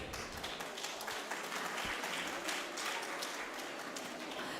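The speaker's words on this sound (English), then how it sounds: "Just provide the very big round of applause to the distinguished honors" An audience at a faculty silver jubilee ceremony gives a sustained round of applause for distinguished guests, heard as continuous, fairly quiet clapping from a crowd.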